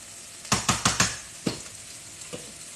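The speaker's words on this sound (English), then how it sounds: "I'm gonna stir them noodles around a little bit so they ain't sticking" Noodles stirred in a cooking pot for a chicken Alfredo casserole, about five quick scraping clacks in a row, then a softer one, over a faint background sizzle.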